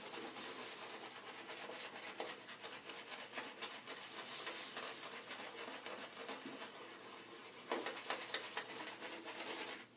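A straight razor scrapes steadily across a lathered face, a continuous close raspy rubbing with brief louder strokes, no talking.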